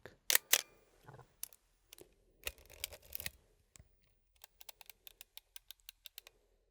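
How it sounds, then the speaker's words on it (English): A Pentax K1000 film camera is wound and fired in a quiet room: a few sharp mechanical clicks and ratcheting winds, then a quick run of small, evenly spaced clicks as the film is wound back. "Just that clicking, that's what makes me love this camera so much."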